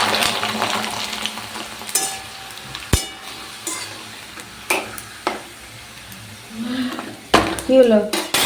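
Snacks frying in hot white (refined) oil in a home kitchen, with sizzling bursts, a few sharp clinks of utensils against the pan and stirring, loud and close.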